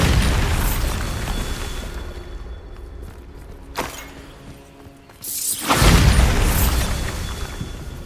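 A Bombarda explosion spell cast in Hogwarts Legacy, loud booming blasts with shattering debris, one sharp burst midway and a heavy rumbling explosion near the end, no talk.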